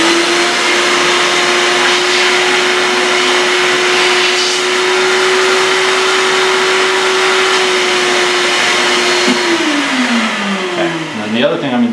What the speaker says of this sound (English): I'm just going to vacuum that out with the